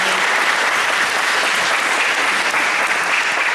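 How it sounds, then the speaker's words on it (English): A round of applause from attendees at a coaches clinic, dense continuous clapping that holds loud and steady for the whole stretch with no talking over it. "So I want to introduce Mike and give him a round of applause also."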